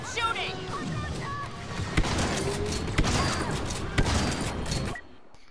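Rapid blaster gunfire in Star Wars Battlefront II during the Battle of Jakku, a dense, loud barrage of shots with sharp impacts and mechanical whines, under game voices and effects, cutting off abruptly.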